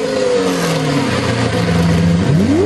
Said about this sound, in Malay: Ini bunyi enjin kenderaan.